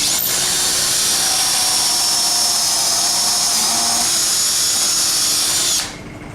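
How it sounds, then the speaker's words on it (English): A power drill drilling pocket holes whines steadily at close range for several seconds, then winds down and stops. "Ready to start drilling pocket holes."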